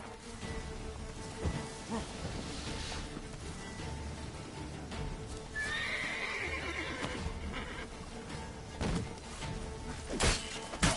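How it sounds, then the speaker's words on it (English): A horse whinnies loudly in the middle of the scene, with hooves clopping and rain falling steadily throughout, in the video game The Witcher 3: Hearts of Stone. "Whoa there, Roach"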